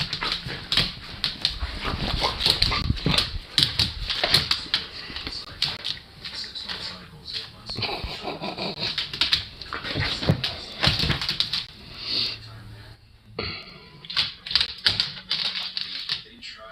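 A dog shuffles about close by, whimpering between rapid clicking and rattling movement sounds, while a person talks to it over the commotion.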